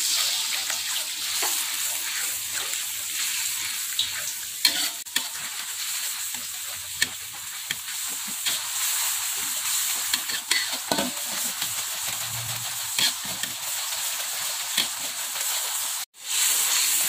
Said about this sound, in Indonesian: Oke, ini kita tumis, tentunya bahan bumbunya matang. Kita aduk.